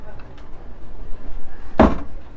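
A drawer ice maker aboard a Fairline F//Line 33 boat is pushed shut, giving a single short, solid thud near the end, close by and after a quiet stretch.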